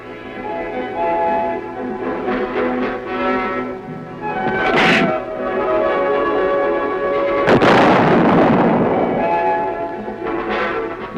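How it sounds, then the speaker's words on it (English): An artillery gun at the Aberdeen Proving Ground fires a shell, a sharp loud blast bursting out over a background hum, followed by rumbling decay and a couple of smaller bangs. "the hydraulic loading system rams a shell into the breech. A charge is added and the weapon is ready to fire."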